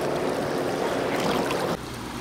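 A fire brigade boat motors along a river during a search operation on the Danube, a steady churning wash and engine drone with wind noise, dropping slightly in level near the end.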